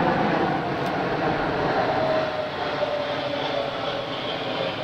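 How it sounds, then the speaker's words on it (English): Steady, broad roar of military planes passing overhead, a continuous loud engine drone with a faint shifting whine throughout and no talking. "military planes for the last 2 weeks"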